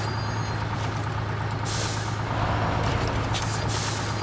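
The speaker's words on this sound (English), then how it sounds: "this truck is a off-road monster as I get stuck on the bumper" Military off-road truck in the video game Snowrunner, with a low continuous engine drone, hissing air-brake bursts and faint electronic beeps while it struggles through rough terrain.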